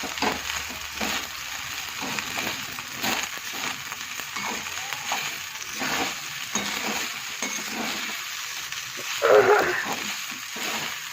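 Leftover cooked rice being stir-fried with tempering in a pan, with repeated scraping strokes of a spatula over a constant sizzle and a brief louder bump near the end.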